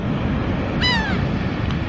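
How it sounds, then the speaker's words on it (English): A seagull gives one short laughing call, clear and fairly near over a steady roar of wind and surf at a beach, with a fainter cry near the end. "They're seagulls."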